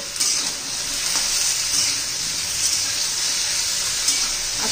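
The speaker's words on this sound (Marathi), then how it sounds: "कढईमध्ये शिमला मिरचीचे फोडी घेतलेले आहेत. त्याच्यावर थोडंसं तेल घालून आपण" Capsicum pieces fry in a little oil in a kadai, giving a bright, even sizzle that holds steady throughout with faint stirring and no speech.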